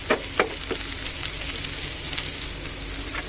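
Chopped onions and green chilies sauté in a pan for veg chowmein, a loud, steady sizzle with a few sharp spatula scrapes and clicks near the start, close and continuous with no voices.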